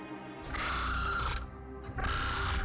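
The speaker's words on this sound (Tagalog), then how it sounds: "makarinig ako ng matinis pero mahinang huni" Two harsh, shrill animal calls sound in succession, each lasting under a second, separated by a short pause, with no talking.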